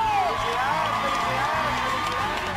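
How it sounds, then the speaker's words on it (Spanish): A studio audience on a children's televised singing competition cheers and whoops loudly and continuously, a dense crowd roar with scattered shouts throughout. "¡Fuerte el aplauso!"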